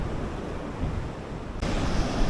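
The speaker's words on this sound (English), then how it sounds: "A little windy, surf's a little strong" Steady roar of wind and crashing surf on a Brazilian beach at low tide, with the noise swelling louder near the end; no voices.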